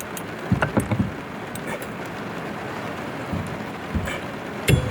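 Heavy rain pours outside while someone works inside a GMC G20 van, making a steady, broad hiss with a few scattered knocks and thumps nearby.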